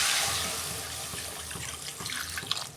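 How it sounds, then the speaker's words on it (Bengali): Water poured into a pan of cooked-down cauliflower, potato and pomfret curry, a steady splashing rush close by that slowly eases off. "কষানো হয়ে গেছে, আমি জল দিচ্ছি"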